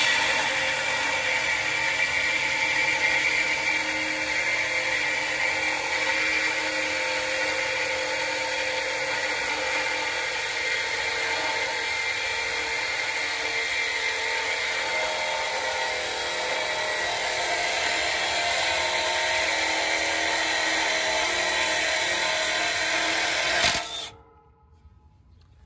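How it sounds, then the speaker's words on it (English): A Milwaukee impact driver runs nonstop at a high, whining pitch during outdoor central air conditioner condenser maintenance, loud and close for over twenty seconds before cutting off abruptly. "We're going to get my Milwaukee impact driver."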